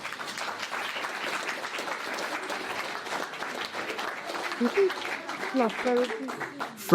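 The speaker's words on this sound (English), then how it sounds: "Can we have a round of applause, of course, for..." Sustained audience applause fills a political rally hall at an Advance UK event in Clacton, with dense, steady clapping throughout and a few voices rising near the end.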